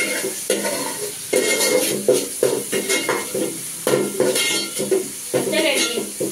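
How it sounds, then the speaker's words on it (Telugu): Tomato, onion, green chili and curry leaves for upma fry in a pan with a bright sizzle, punctuated by repeated scraping and clinking of a spoon stirring against the metal. "ఈ టమోటా, ఉల్లిగడ్డలు, పచ్చిమిరపకాయ, కరివేపాకు బాగా వేగిపోయిందండి ఉప్మాకి"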